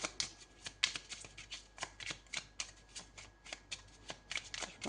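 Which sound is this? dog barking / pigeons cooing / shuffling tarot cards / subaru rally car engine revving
shuffling tarot cards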